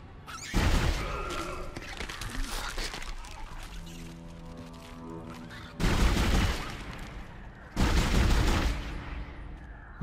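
Gunfire from the survival horror game Dead Space, with loud heavy blasts at the start and two more bursts later, and a low rumbling, tonal ambient drone between them.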